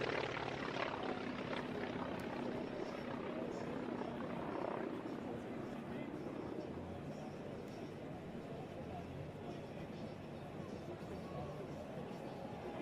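An air show aircraft with a Wright Cyclone R1820-89B nine-cylinder radial engine of 1,425 horsepower flies by, giving a steady broad engine roar that slowly fades slightly over the length, with faint crowd sounds underneath.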